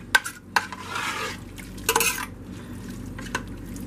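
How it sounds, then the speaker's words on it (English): Homemade chili being stirred in a pot on the stove: a few sharp clinks and scrapes of a spoon against the metal, with a soft wet bubbling between them, close and unaccompanied by speech. "And stir that all up good"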